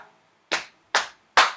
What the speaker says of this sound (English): when you clap on your thighs, it's going to be two times